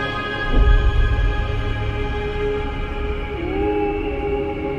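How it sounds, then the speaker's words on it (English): A steady, eerie tonal drone with layered ringing overtones, one pitch sliding upward near the end; gravitational waves from merging black holes rendered as sound; no voices. "Those are the gravitational waves. They're literally the sounds of space ringing."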